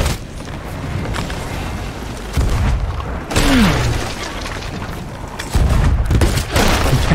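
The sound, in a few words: cannon fire in a video game (Sea of Thieves)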